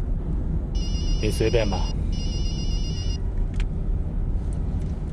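A mobile phone rings inside a moving car, an electronic ringtone in two bursts over steady engine rumble, with a voice speaking during the ringing.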